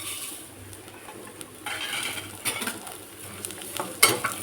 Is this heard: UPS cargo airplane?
no